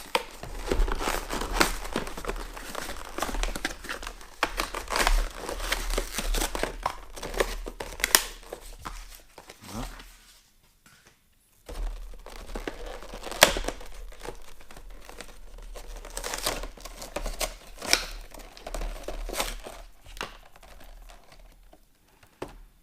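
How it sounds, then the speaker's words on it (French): Packaging crackles and rustles as a model chalet from an Alpine train collection is unwrapped, a steady close crinkling of plastic and paper that pauses briefly midway and then resumes, with no talk. "Donc le chalet que je vais déballer tout de suite."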